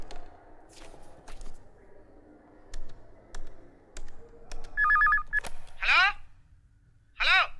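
A phone number being dialed on a telephone, with scattered key taps, a short burst of beeping tones, then two loud ring tones on the line, close up.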